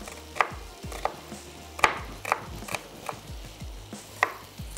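A small onion is chopped with a knife on a board in a home kitchen, with sharp, close knife strikes landing in an uneven rhythm, clear and alone.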